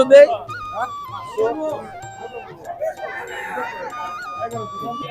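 Busy market chatter at a rural livestock market in Manikganj, Bangladesh, with people talking over scattered clucks and squawks from chickens and ducks nearby, plus occasional honks in the background.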